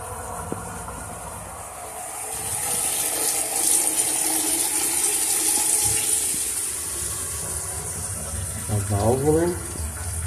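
Water runs steadily at a bathroom sink valve and drain trap that are dripping. The hiss stays close and even throughout, and a voice is heard briefly near the end.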